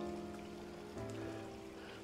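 Water running down a stream in a mountain ravine near a Himalayan village, a faint continuous rushing wash heard at a distance with no voices.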